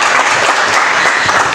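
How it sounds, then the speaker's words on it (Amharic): Loud, dense applause from an audience at an event at a hotel, a steady wash of many hands clapping close by, with no speech over it. "አጨብጭቡላት እስኪ"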